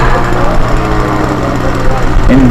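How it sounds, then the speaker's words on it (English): A Phoenix RC model plane's engine revs at a float fly meet, a steady buzzing drone with a rising whine near the end, while someone talks over it. "That's the Phoenix revving up again."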